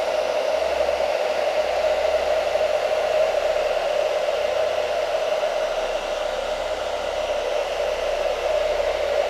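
A hair dryer set on high heat blows steadily over wet acrylic paint on a landscape canvas, a loud, even whooshing drone with a constant motor whine and no pauses or talking.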